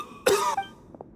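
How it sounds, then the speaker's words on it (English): A single harsh, close cough bursts out, followed by a couple of faint, soft throat sounds trailing off. "Why is he coughing so much?"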